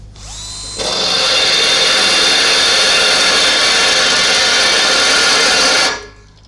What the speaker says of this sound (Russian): Хазар фреза белән сверлить итәбез.